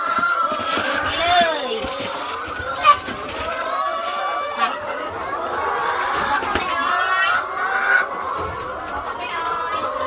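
A large flock of egg-laying chickens on a farm clucks and squawks continuously, with overlapping calls, a few sharper squawks standing out, and what may be a voice underneath.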